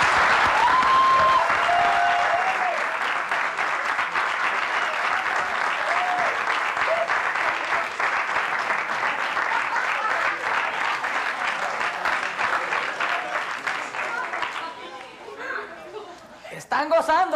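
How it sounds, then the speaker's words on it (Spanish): A comedy show audience applauds to welcome comedian Ángel Ramis: loud, sustained clapping with crowd chatter and a few whoops under it. A whistling tone rises early on, and a voice begins speaking near the end. "Quiero que reciban con un fuerte aplauso y muchas carcajadas a mi socito Ángel"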